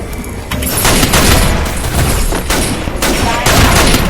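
Loud, dense volleys of gunfire from the mobile shooter Free Fire, rapid shots overlapping almost continuously with a few short gaps and faint voices beneath.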